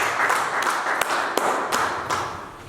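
Congregation clapping in acclaim of Jesus during a church sermon, several sharp claps standing out over a steady wash of crowd noise.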